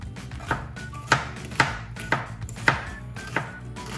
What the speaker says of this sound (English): I'm chopping onions